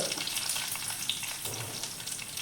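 Chopped onion fries in hot coconut oil in a pan along with spluttered mustard seeds and curry leaves, for a dried prawn and snake gourd thoran. A steady, close sizzle continues without a break.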